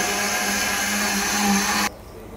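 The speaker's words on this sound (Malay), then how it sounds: "Okey, saya kisar halus pandan ni." Blender grinding pandan leaves with coconut milk, a loud steady motor whir with a low hum that cuts off abruptly after about two seconds.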